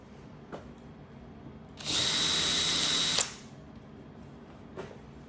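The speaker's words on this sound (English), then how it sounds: "Now I'm going to actually drill smaller holes too" A power drill whirs steadily for just over a second, a sharp high-pitched burst standing out against quiet room noise, with faint taps before and after.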